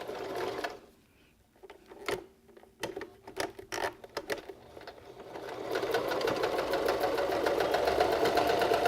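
Sewing machine stitching fabric for a beanie, running in a steady rapid whir that builds after a few scattered taps and short bursts, close and fairly loud toward the end.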